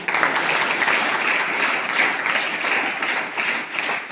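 An audience applauding to welcome a revered guest at a religious celebration, dense sustained clapping from many hands at a steady volume throughout.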